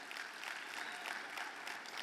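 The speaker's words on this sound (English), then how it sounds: "let's give Citibank a round of applause for that work" An audience at a self-determination event applauds faintly from a distance, a dense, even wash of clapping across the whole moment.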